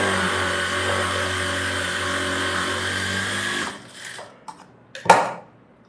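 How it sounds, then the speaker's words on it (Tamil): Sewing machine running steadily while stitching an edge seam on a blouse, a continuous motor hum for about three and a half seconds, then stopping, followed by a few faint handling clicks and a brief rustle of fabric. "இதுக்கு முன்னாடி இந்த ஒரு எட்ஜ் தையல் போட்டுறேன்."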